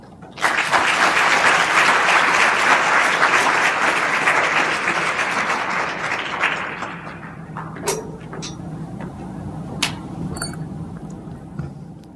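An audience applauds loudly for a lecturer at an American Diabetes Association lecture event, dense steady clapping that lasts about six seconds before thinning into scattered claps and faint room noise.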